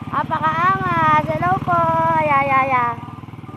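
A motorcycle engine hums and putters as it rides through flood water in Barangay Gugo, heard beneath loud, continuous talking close by.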